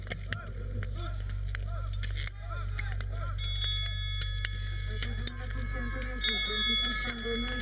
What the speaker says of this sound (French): Et la cloche qui annonce les 400 derniers mètres.